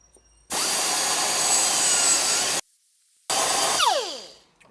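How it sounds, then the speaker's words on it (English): Power sanding on a part being fitted to a 2024 Road Glide for 12-inch mini monkey bars, loud and steady in two close bursts with a short silent gap, the second winding down at the end. "now I'm gonna have to sand this area smooth"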